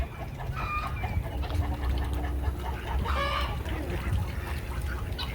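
Chickens cluck steadily in the background, a few louder calls rising over a constant wash of outdoor noise.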